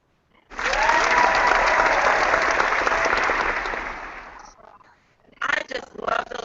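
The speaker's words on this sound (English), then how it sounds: "I just love those hidden claps" An audience at an online book signing event bursts into steady, loud applause lasting about four seconds, fading out, then a few scattered, uneven claps follow.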